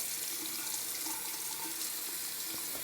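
Water from a bathroom sink tap runs in a steady, even stream for a rinse, a continuous close hiss with faint splashing and no talk.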